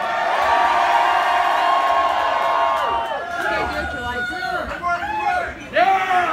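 A packed concert crowd at a show in St. Louis roars with cheering, whoops and shouts, loud and dense throughout, with individual voices rising in pitch near the end.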